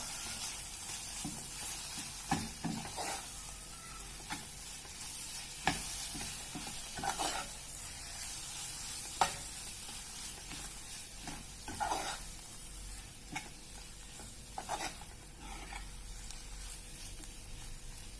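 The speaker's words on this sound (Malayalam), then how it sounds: "എന്നിട്ട് ഒന്ന് ഇതിന്റെ പച്ചപ്പ് മാറുന്നവരെ ഒന്ന് വഴറ്റാം" Chilli, turmeric and pepper powders sauté in a pan for a pepper chicken curry, a soft steady sizzle broken by repeated scraping stirs, fairly quiet and close, with no talk.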